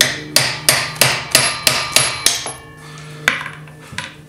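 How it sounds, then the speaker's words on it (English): Repeated metal hammer blows strike an old screwdriver used as a drift on a Harley-Davidson Sportster 48 front-end part, about eight sharp, evenly spaced close-up strikes followed by a pause and two more lighter taps. "I'm going to try use an old screwdriver, see if this will get it out some more."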